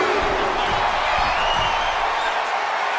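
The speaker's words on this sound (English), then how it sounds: "The crowd is fired up." Wrestling arena crowd in WWE 2K25 roars steadily throughout, a dense continuous wall of cheering with low thuds of in-ring impacts beneath.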